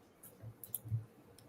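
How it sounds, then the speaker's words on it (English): A computer keyboard clicks softly in the background, with a few scattered, quiet taps spread across a short moment. "I hear you clicking around that keyboard there in the background"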